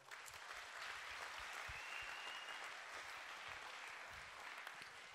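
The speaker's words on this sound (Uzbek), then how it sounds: "bitta shu to'rtinchi beshinchi sinflarni bitta qarsak chalib beringlar" Fourth and fifth grade students clap for a speaker at a seminar, a sustained, even round of applause from a crowd heard at a modest distance.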